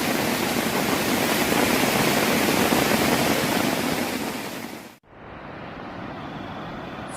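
A waterfall beside a stream at a Khlong Lan campsite in Kamphaeng Phet, Thailand pours steadily in a loud, broad roar, then drops abruptly and continues more softly for a few seconds.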